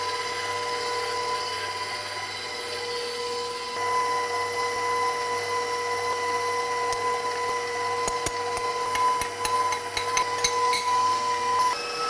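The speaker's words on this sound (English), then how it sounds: "So medium speed with our wire whisk." An electric stand mixer with a wire whisk runs at medium speed, beating soft pumpkin bar batter in a steady, continuous whir with a faint hum, plus a short run of light tapping and clicks near the end.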